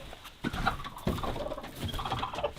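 Chickens in a coop at evening give soft, scattered clucks and low murmuring calls that go on without a break, fairly close and at moderate volume, with no talking.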